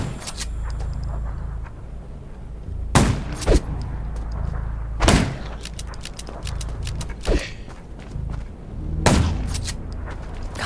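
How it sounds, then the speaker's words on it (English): Gunshots ring out in the zombie survival video game Undawn, with several sharp, loud bursts spaced seconds apart, some in quick clusters, over a low rumbling game ambience. "Gunshots."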